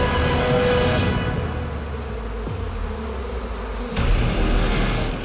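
Honeybees buzz steadily inside a hive as two rival queens wrestle on the hive floor, a dense continuous drone with a dull thump partway through.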